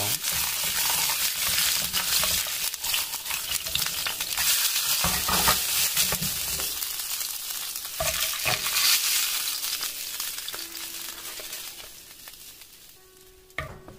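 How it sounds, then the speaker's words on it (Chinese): Fish slices pan-fry in hot oil in a non-stick pan over medium heat, giving a steady close sizzle broken by occasional scraping and stirring, fading toward the end. "倒上油，先把鱼片正反面都煎一下"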